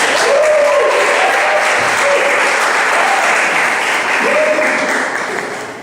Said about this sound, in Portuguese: Salva de palmas aí, Aline.